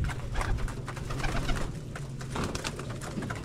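Pigeons coo continuously in soft, low murmurs, with some rustling and flapping mixed in nearby.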